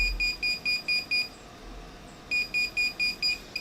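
Garrett Pro Pointer AT metal detector alerting on a buried coin about an inch down, giving a loud, close run of five evenly spaced electronic beeps, a brief pause, then five more beeps at the same steady rhythm.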